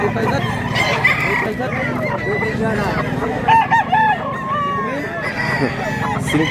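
Several Gelmore gamefowl roosters crow repeatedly over a busy background of clucking fowl and people talking nearby, in Mantalungon, Cebu.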